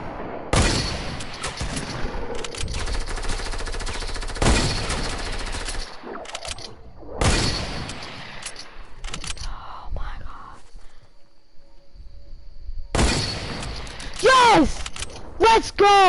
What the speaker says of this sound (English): That's a silenced scar.